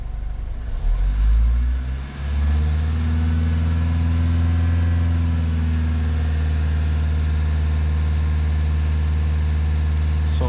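A 2014 Vauxhall Vivaro van's diesel engine is held at about 2500 rpm after a brief revving rise, giving a steady, loud, close drone with strong low harmonics and no talk.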